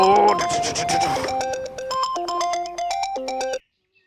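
A telephone plays a loud, melodic ringtone of repeating electronic notes for about three and a half seconds, then cuts off abruptly into silence.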